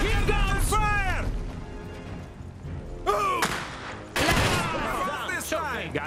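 Battle gunfire in the video game Iron Harvest: bursts of shots and heavy explosions crack out in clusters, loud and dense, while shouted voices call out over the fighting.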